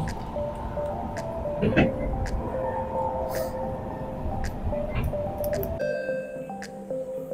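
Steady rumble of a moving Singapore MRT metro train with occasional clicks and knocks, then a brief electronic chime tone near the end.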